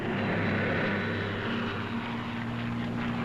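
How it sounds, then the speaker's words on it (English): Propeller engine drone of a Lockheed P-38 Lightning, a World War II fighter aircraft, holding as a loud, steady, continuous roar with a low throbbing hum throughout. "Here is the Lightning, the P-38, master of the air in many theaters of war."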